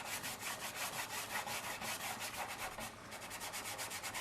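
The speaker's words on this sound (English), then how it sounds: "Once you shade in the corner with the float, you can use the dry rub technique to extend it out." A dry brush is rubbed rhythmically across a wooden tole-painting surface in quick back-and-forth strokes, a steady close scratchy swish that pauses briefly once. No one speaks.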